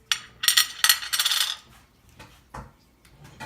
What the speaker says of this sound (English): this bowl with actual ice cubes in it